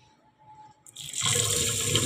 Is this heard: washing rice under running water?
yes